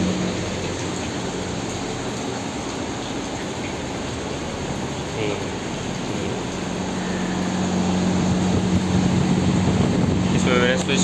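A newly installed room air cooler runs after being switched on, giving a steady whooshing fan drone with a constant low hum that grows slightly louder toward the end.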